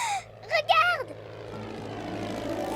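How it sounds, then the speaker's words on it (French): A cartoon propeller airplane belonging to a pilot uncle drones steadily and grows louder after a brief burst of animated voices, its engine hum carrying alone to the end. "C'est l'avion de tonton pilote!"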